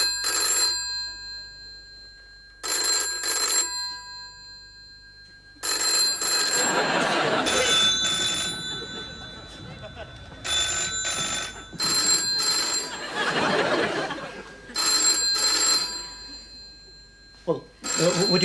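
A telephone ringing in repeated double trills with short pauses between them, loud and close, while voices talk in the gaps and partly over the rings.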